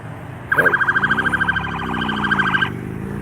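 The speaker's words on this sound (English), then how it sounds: "It's got ambulances and our SWAT wagon" A motorcade siren wails loudly and close, with ambulances and a SWAT vehicle in the procession, cycling in a fast warbling yelp for about two seconds before cutting off over road noise.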